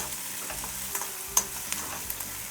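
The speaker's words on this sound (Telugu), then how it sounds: "ఈ ఆయిల్లో ఫ్రై చేస్తున్నాను" Sliced onions frying in oil for egg pulusu, a steady close sizzle broken by a few sharp ladle clicks and scrapes against the pan.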